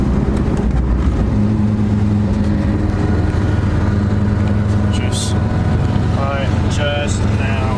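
Porsche 944 with a swapped-in 07K five-cylinder engine climbing a mountain road, giving a loud, steady engine drone with interior road rumble throughout, with someone talking over it.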